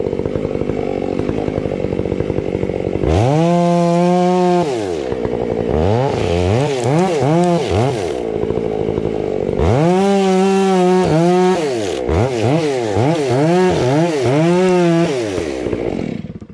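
A chainsaw cuts into a tree, its engine revving loud and close in repeated bursts that rise and fall between cuts, with rough idling in the gaps.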